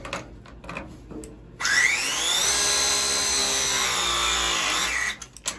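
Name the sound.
press tool crimping copper pipe fitting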